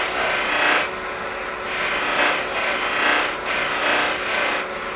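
Epoxy resin being polished with a greasy, fat-rich compound, giving a steady close rasping rub in long strokes with brief pauses between passes.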